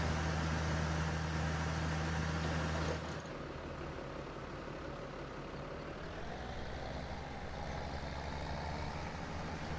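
A tractor engine in a farming video game runs with a steady, droning hum. The hum is louder and carries a distinct tonal whine for the first few seconds, then settles into a lower, continuous idle with no talking.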